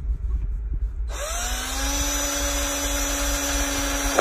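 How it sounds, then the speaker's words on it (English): A power drill fitted with a hole saw from a 19-piece HYCHIKA kit spins up abruptly and grinds steadily through material at close range, holding a loud, even whine to the end. "Let's go ahead and drill a little hole here."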